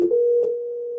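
Steady telephone dial tone heard after dialing into a Cisco UCCX helpdesk script, a single continuous hum following a brief click at the start, alone with no talk.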